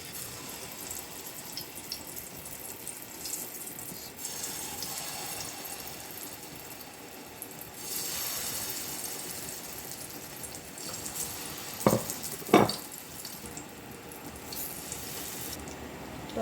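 Green banana kebabs frying in hot oil, a steady broadband hiss and crackle running throughout, rising in intensity partway through, with a couple of sharp louder pops near the end; no talking.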